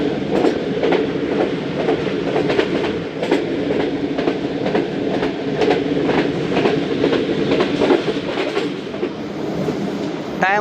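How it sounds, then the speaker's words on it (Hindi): The Karachi Express passenger train runs loudly on the rails near Okara railway station, a steady rumble with rhythmic clickety-clack from the wheels at close range throughout. "उकाड़ा रेलवे स्टेशन पहुंच रही है ट्रेन।"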